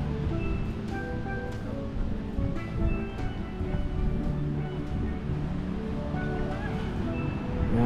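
Ocean waves wash steadily onto a beach in Cancún, a continuous broad surf roar with a low hum running underneath and no talking.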